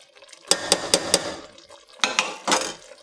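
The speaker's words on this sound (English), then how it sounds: "Just give it a stir." A spoon stirs bubbling tomato sauce in a pot, clanking against the sides in four quick knocks, then two more scraping strokes, close and fairly loud with no talk.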